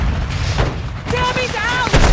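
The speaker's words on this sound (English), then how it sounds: "Big grenade!" A grenade blast in the shooter game Warzone Mobile, a heavy boom with gunfire and battle noise around it, while in-game voices shout over the action.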